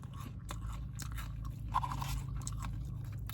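Close, quiet crunching and chewing of crispy onion rings from a burger meal, soft repeated bites and mastication sounds with no talk.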